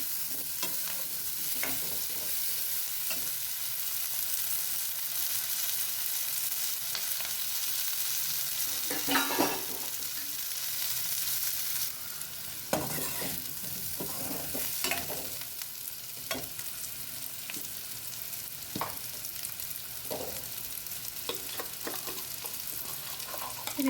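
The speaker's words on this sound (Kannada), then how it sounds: "ಇದು ಈರುಳ್ಳಿ ಜೊತೆ ಎಣ್ಣೆಲೆ ಫ್ರೈ ಆದರೆ ಚೆನ್ನಾಗಿರುತ್ತೆ" Drumsticks and onion fry in oil on a low flame, a continuous close sizzle with occasional stirring scrapes and clinks.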